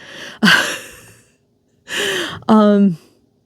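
A person gives breathy, drawn-out vocal exhalations, a sighing gasp followed by a longer voiced yawn-like groan, close to the mic.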